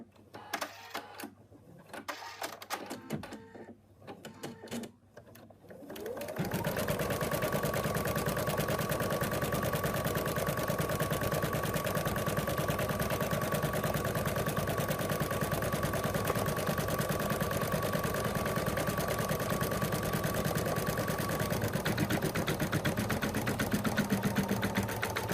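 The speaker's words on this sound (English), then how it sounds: "It's now going to stitch out the last color, and that is going to do the outline of the arms and legs and the ears." An embroidery machine stitches the final outline color of an in-the-hoop moose design, tracing arms, legs and ears. After a few seconds of quieter handling it settles into a loud, steady, rapid needle chatter that runs alone and unbroken to the end.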